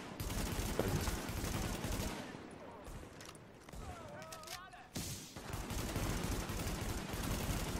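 Gunfire from The Division, a German-language shooter session, with bursts of shots and thuds running through most of the stretch beneath a talking voice and game sounds.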